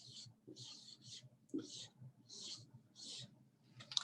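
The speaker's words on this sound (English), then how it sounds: "I am going to write this word on the board." Marker strokes squeaking across a classroom board during a phonics lesson, a series of short scratchy bursts about half a second apart with a soft tap near the end, quiet and close.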